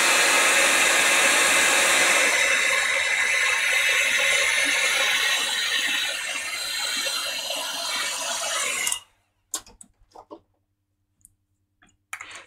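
A heat tool blows hot air over a plastic craft tag, a steady loud whooshing hiss lasting about nine seconds, then stopping, followed by a few faint clicks and handling noises.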